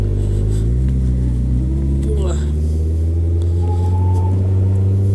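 A Kawasaki Concours 14 motorcycle engine on an evening ride into Santa Fe, a loud steady low rumble that drops in pitch as the clutch is worked, with a voice faintly underneath.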